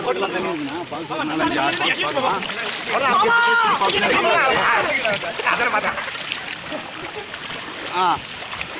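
Boat ride on the river at Hogenakkal, with water sloshing and splashing steadily around the hull, while people talk over it throughout.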